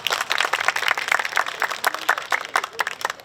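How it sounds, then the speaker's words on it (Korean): An audience at the 2024 Hanwoo Grill Festival greets chef Kim Ho-yun with a steady burst of applause, many hands clapping quickly and evenly for several seconds. "박수로 맞아주십시오"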